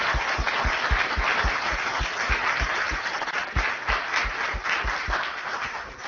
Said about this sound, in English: a little round of applause for Richard